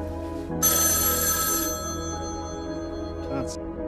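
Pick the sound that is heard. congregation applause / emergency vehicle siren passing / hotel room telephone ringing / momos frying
hotel room telephone ringing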